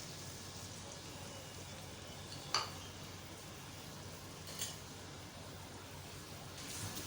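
Chopped onions fry in hot cooking oil for a boti masala, giving a steady, soft, rain-like sizzle throughout with a couple of faint clinks, and no talking.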